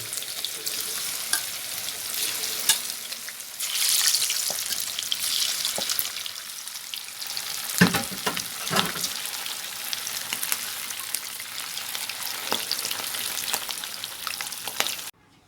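Pork belly frying in fish sauce in a pan, a steady loud sizzle and crackle with occasional stirring scrapes, close and continuous.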